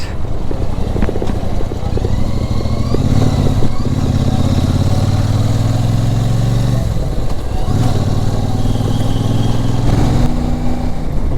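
Motorcycle engine at highway speed on a long ride toward Jalandhar in Punjab, a loud, steady, unbroken drone with constant road and wind rumble throughout. No talking.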